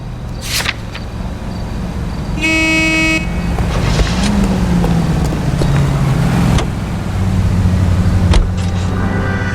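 A car drives in the 1940s Los Angeles crime game L.A. Noire. A steady engine drone runs throughout, with a sustained horn blast early, a few clunks, and tonal shifts as the vehicle moves.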